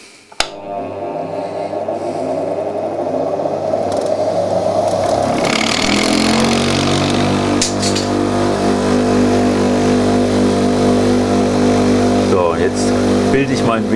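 A drill bit grinding machine switches on with a sharp click and spins up, its motor whine rising over several seconds and then settling into a steady loud hum, with a voice talking over it.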